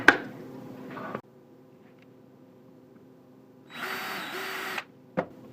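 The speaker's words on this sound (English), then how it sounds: "I think I'll just drill a bigger hole." A power drill bores a bigger hole in wood in two short bursts, each about a second long, with a high whine. The bursts are separated by quiet, and a brief click follows.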